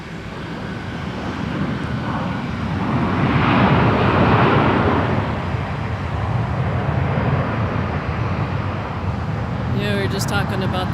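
A Delta Airbus A320, one of the oldest in the fleet and originally a Northwest Airlines jet, roars at Minneapolis–St. Paul airport, its engine noise swelling to a broad peak and then easing to a steady rumble.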